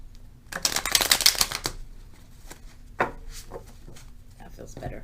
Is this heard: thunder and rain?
no